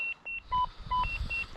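A pager's daily alarm test gives a short run of electronic beeps, alternating high and lower tones in quick, evenly spaced pulses, fairly faint over a low background rumble.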